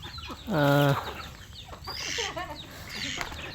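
Ducks call nearby: one loud, drawn-out quack, then a scatter of softer, shorter quacks from the flock.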